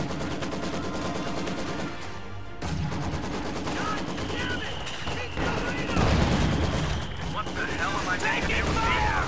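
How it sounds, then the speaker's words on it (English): Mortar and machine gun fire crackle through a WWII strategy video game, with sustained rattling bursts and thudding impacts filling the mix under a commentator's voice. "Mortar fire continuing on this Maxim, no shots connecting yet."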